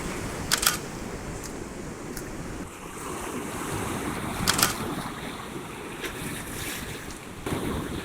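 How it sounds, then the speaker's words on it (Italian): A camera shutter fires a sequence of separate clicks while photographing the coast at about half-second exposure and f/22, scattered over steady surf and wind noise outdoors. "Scatto un po' di fotografie in sequenza"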